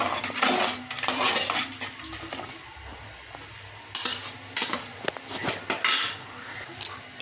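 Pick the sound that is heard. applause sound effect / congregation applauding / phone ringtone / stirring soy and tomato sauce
stirring soy and tomato sauce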